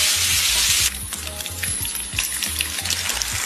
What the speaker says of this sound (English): And saute for a couple of minutes